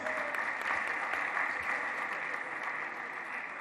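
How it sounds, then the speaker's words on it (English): An audience at a university's official hub launch claps for the Vice Chancellor: steady, dense applause that holds at an even level throughout, with a slight easing toward the end. "can you all please help me clap for the Vice Chancellor"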